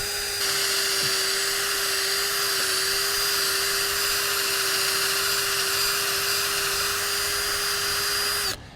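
A power drill bores a tap hole about 1.5 inches into a maple tree trunk, one steady high whine held for several seconds at close range before it cuts off abruptly.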